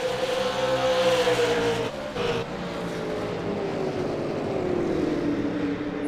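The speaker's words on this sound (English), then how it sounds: "Now it's a 3-car battle for this race lead as Jeff Unich has now caught up to the 7 and" ASL Super Late Model race cars scream past on the New Smyrna Speedway oval, their engines held at a steady high pitch that slowly drops as the pack pulls away during a battle for the lead.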